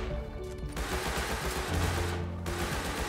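Gunshots from the survival game Rust crack out in quick bursts over a continuous, busy game soundscape, loud and close with a dense cluster of shots.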